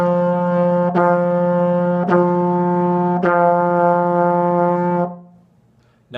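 A trombone sounds a single sustained F, held steady for about five seconds with a few slight articulation breaks before it fades, loud and close with no talking.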